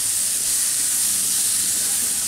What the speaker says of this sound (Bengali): আমি কিন্তু এখন হাই হিটে ভাজতেছি, যাতে খুব দ্রুত সবজিগুলোর মধ্যে একটু পোড়া পোড়া দাগ লাগে কিন্তু সিদ্ধ না হয়।